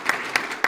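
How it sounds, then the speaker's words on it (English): Brief applause from an audience at a Sarasota Police promotional ceremony, a short broadband patter with three sharper claps standing out near the start, middle and end. "Let's give the Police Foundation a big round of applause."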